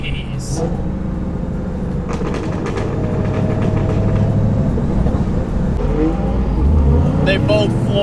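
A Lamborghini STO and a supercharged Mustang accelerate hard side by side, a sustained roar of engines building over several seconds, with people talking over the top.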